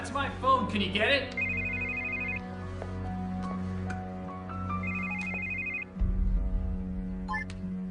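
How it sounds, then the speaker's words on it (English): A mobile phone ringtone plays a repeating electronic melody indoors, steady and clear for several seconds, with people talking briefly over it at the start. "That's my phone. Can you get it?"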